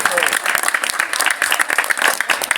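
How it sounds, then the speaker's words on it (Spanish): An outdoor audience on a theatrical tour at the historic gates of Santa Fe breaks into brisk, dense clapping, with voices mixed into the applause. "Un aplauso, un aplauso."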